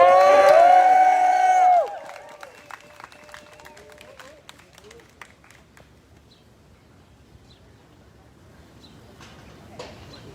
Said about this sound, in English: Can y'all clap it up for Kendra, y'all?